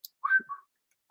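A person attempts to whistle, producing a short, thin, wavering whistle with a couple of breathy notes and faint clicks around it.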